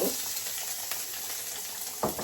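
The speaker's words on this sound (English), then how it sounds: "started frying the sauce in the onions." Steady sizzling of sauce frying with onions in a pan, a constant hiss with a brief louder clatter near the end.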